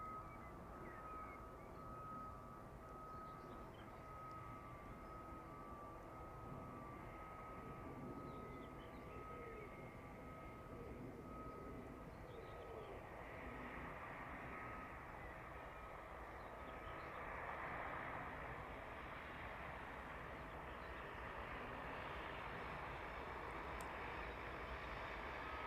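An airliner touches down at East Midlands Airport, a steady, heavy engine roar with a faint whining tone that swells louder and rougher in the final seconds.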